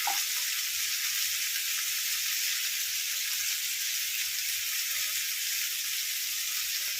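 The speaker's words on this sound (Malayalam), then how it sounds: "നമ്മൾ ഇളക്കി കൊടുക്കുന്നു കുറച്ചുകൂടെ നന്നായി ഓക്കെ ആക്കിയാത്ത വെള്ളമെല്ലാം പെട്ടെന്ന് ഇറങ്ങി വരും അപ്പം നന്നായിട്ടൊന്ന് ഫ്രൈ ആവും" Ivy gourd pieces fry in a pan with a steady, bright sizzle and faint stirring knocks underneath, continuous and close.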